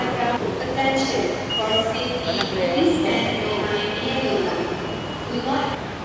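Busy Kuala Lumpur subway station at Masjid Jamek, with a steady rumbling hum of rail machinery, scattered beeps and chimes, and voices talking in the background throughout.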